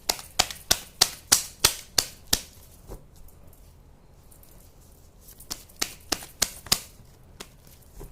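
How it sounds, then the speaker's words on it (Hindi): Tarot cards are shuffled by hand in a quick run of about eight crisp, sharp riffling snaps, a quiet pause, then another burst of close, clicking shuffles, with no talking. "आप सभी लोगों के सामने ही शफल करूंगी कार्ड्स।"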